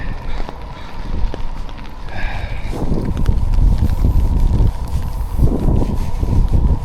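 Heavy outdoor wind buffets and rumbles against a microphone, with gusting low-frequency roar that swells and surges throughout, loud and continuous.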